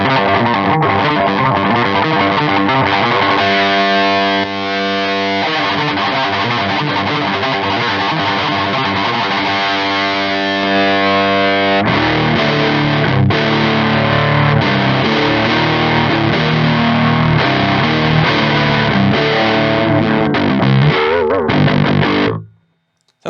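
An electric guitar runs through a Biyang DS-12 distortion pedal in bright mode, thick and loud, with sustained distorted chords and riffs that cut off abruptly at the end.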